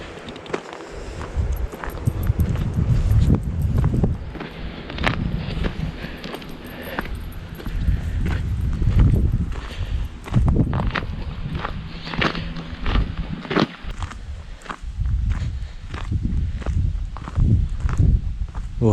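Footsteps crunch steadily outdoors as someone walks out through a garden toward a potato patch, close and fairly loud, with a regular stride and light rustling.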